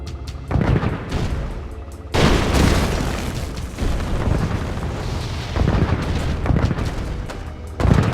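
Units firing in Red Alert 2: heavy booming cannon and artillery blasts roll on one after another, loud and dense, with no voices over them.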